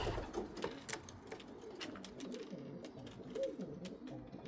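Red pigeons in a loft, soft repeated cooing calls rising and falling close by, with light scuffling and wing clicks in the background.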